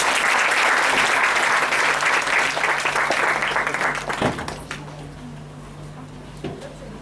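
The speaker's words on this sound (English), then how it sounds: "Let's welcome Vidyatari with a big round of applause" Conference audience applauding a guest at a stress-management event: dense, loud clapping that fades after about four seconds into a quieter hall with a steady hum and a few stray sounds.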